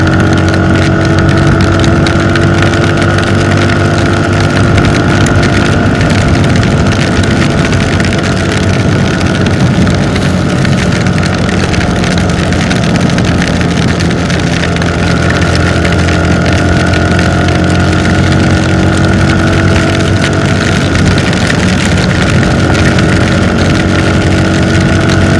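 A motorcycle is ridden through rain on the mountain road to Phnom 1500 in the rainy season, its engine giving a loud, steady, close drone with a constant hum from start to finish and no talk.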